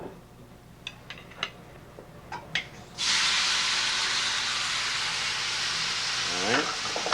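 Small tomatoes drop into a hot pan with garlic and burst into a loud, steady broadband sizzle that carries to the end, after a few soft clinks and taps of prep.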